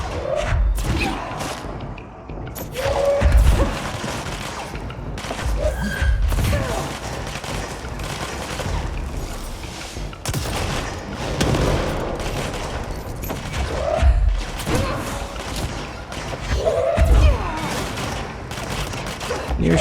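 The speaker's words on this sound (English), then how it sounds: "Wait a minute, are they shooting at him instead of me?" Bursts of enemy gunfire ring out in the Control video game, rapid volleys and heavy thuds coming in uneven waves across the scene, loud and close throughout with brief lulls between.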